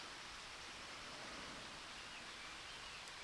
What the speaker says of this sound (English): Yep, and the rain is starting to come down.